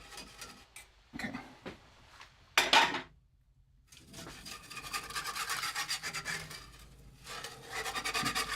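A whisk scraping and churning milk gravy in a cast iron pan, rapid rasping strokes in bursts broken by a brief pause, then a sustained stretch of vigorous metallic whisking, close and loud.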